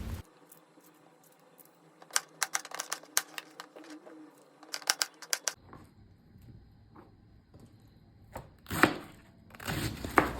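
Knife chopping tomatoes on a cutting board: bursts of quick, sharp taps close by, fairly quiet overall, with a few louder knocks near the end.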